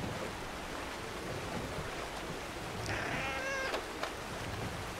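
Cat in Red Dead Online giving a single clear meow near the end, over a steady hiss of outdoor ambience, with no talking.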